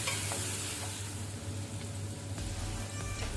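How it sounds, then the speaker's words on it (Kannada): Onions fry in a pan for rice sevai upma, a steady low sizzle and bubbling hiss running throughout at moderate distance, with faint stirring scrapes and no talk. "ಈರುಳ್ಳಿಯನ್ನೀಗ ಒಳ್ಳೆ ರೀತಿ ಫ್ರೈ ಮಾಡ್ಕೊಳ್ಳುವ, ಸ್ವಲ್ಪ ಕಲರ್ ಚೇಂಜ್ ಆಗಲಿ"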